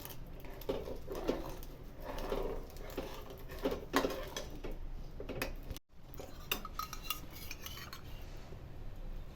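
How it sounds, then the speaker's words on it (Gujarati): Sugar being stirred with a spoon in a pan over low heat, while making a rice flour and coconut barfi: steady scraping and clinking of metal against the pan, with a brief gap near the end. "હલાવીશું એટલે સાકર અંદર ઓગળી જશે"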